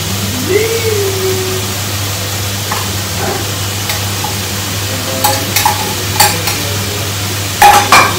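Egg fried rice loaded with vegetables is stirred and mixed in a pan, steady sizzle with scraping spoon strokes growing sharper near the end, with a steady low hum underneath.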